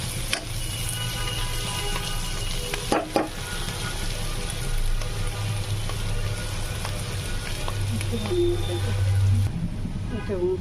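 Potato and bitter gourd bhaji sizzles and fries in a pan with a steady close hiss, broken by occasional stirring clatter.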